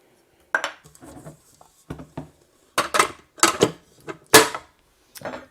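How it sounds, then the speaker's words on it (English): Sugar, cake flour, baking powder and salt stirred together for a pound cake: a run of irregular clinks and scrapes of a utensil against a bowl, close and distinct, with quiet gaps between them. "We're going to stir that together real quick"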